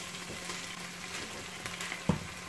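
Masala paste with yogurt stirred in bubbles and sizzles steadily in a pan for chicken masala, a continuous close frying hiss broken by one sharp knock of the spoon near the end.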